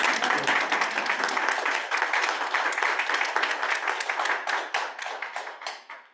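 A lecture audience gives a short burst of clapping. It starts full and fairly close, and individual hand claps can be heard before it thins out and fades over about six seconds.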